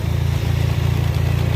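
The modified engine of a green onion transplanter runs close and loud with a steady, low, chugging throb and a rattly mechanical clatter.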